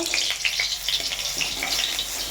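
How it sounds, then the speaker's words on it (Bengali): Pumpkin fritters (kumri) fry in oil in a wok, giving a close, steady crackling sizzle with small bubbling pops throughout. "আমাদের কুমড়িগুলো কত সুন্দর ভাজা হচ্ছে"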